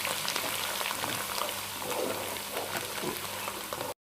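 Ginger, garlic and green chili paste frying in a pan for a fish korma: a steady, dense crackling sizzle throughout, close and even, with no talking.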